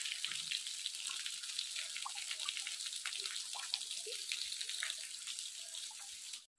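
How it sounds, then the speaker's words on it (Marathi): Water from a small rural waterfall pours down from above in the first monsoon rain, a steady, fairly faint rushing splash that runs continuously without pause and then cuts off abruptly. "बघा पाणी पडते वरून"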